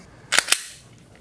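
Dry-fire trigger pulls on a Gen 5 Glock pistol give two crisp, close mechanical clicks in quick succession, sharp and brief against a quiet background.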